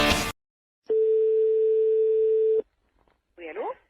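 A telephone hang-up tone sounds as one steady, continuous beep lasting under two seconds, clear and alone, on a prank phone call. A brief burst of noise comes before it and a short voice follows.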